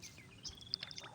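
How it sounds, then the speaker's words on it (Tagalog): A few faint, high bird chirps and tweets over a quiet outdoor hum, brief and spaced out. "yung huni ng ibon"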